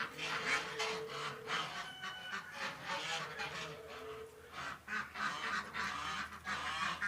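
Several ducks quack in short repeated bursts, moderately near, with a faint background hum.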